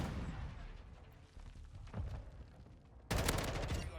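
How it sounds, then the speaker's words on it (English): A grenade blast in the Modern Warfare 2 shooter game, with busy gunfire and combat noise throughout, then a sudden loud, broadband burst near the end. "That grenade blowing up in his face probably scared him."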